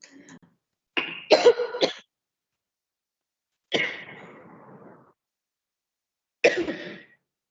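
Three separate fits of raspy coughing, each a quick cluster of hacks, spaced by a few seconds of silence, close and fairly loud.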